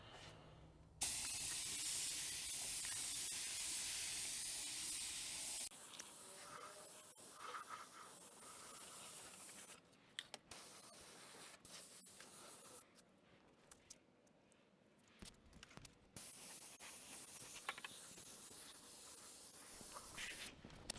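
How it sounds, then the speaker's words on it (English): A spray paint can puts a heavy coat over a car's engine bay, making a steady hiss in long bursts with short breaks and gaps between passes. The weather is cold. "I'm just spray bombing the shit out of it"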